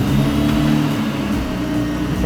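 The supercharged engine of a Jeep Wrangler JK runs loud and close with a steady revving drone, and no voices over it.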